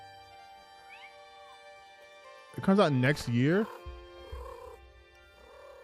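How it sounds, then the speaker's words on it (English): A cat character in a pixel-art video game lets out a loud, wavering meow with purring, followed by a fainter trailing purr. A person talks briefly over the game audio. "That's a cat."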